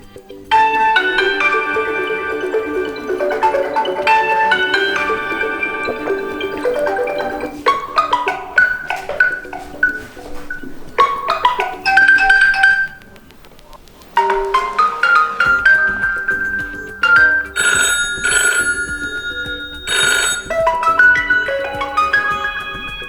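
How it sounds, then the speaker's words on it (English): A melodic electronic ringtone, the default on a Huawei P40 Pro+ phone, plays loudly, a repeating bright tune with brief pauses, then a higher chiming pattern continues near and clear. "Let me start with default ringtone."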